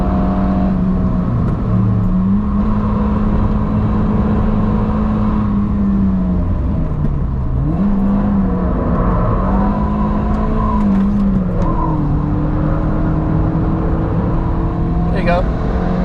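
A Toyota Yaris T Sport on the Nürburgring track, its engine droning loudly and steadily near redline as it holds revs, with pitch dips at gear changes, heard from inside the cabin with someone talking over it.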